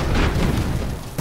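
Heavy guns fire in a 2D steampunk 40k simulator game, a loud, rumbling roar of booming shots that blur together into continuous low thunder.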